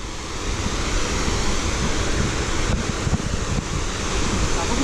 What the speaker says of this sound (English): So as we are approaching towards the waterfall, the sound is increasing.